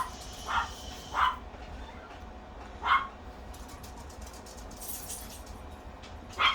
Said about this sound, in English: Barkity bark bark.